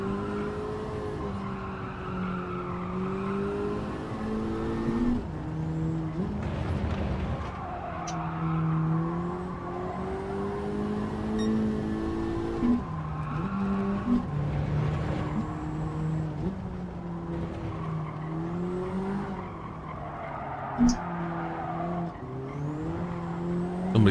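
A racing car in a racing video game on its last lap with worn, scrubbing tyres: a steady engine drone rising and falling through gear changes, with tyre squeal and scrubbing noise over the whole stretch.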